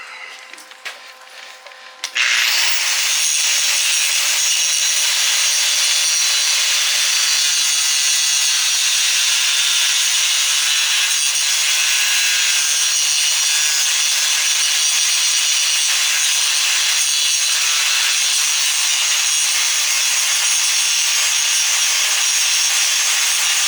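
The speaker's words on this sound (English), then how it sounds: "I'll just clean it real quick with the grinder to take off anything to get in the way of the adjuster." A grinder starts abruptly after a short quiet moment and then runs in one continuous loud, harsh buzz as it cleans a tire adjuster part on a 1971 Honda SL70, with no talking.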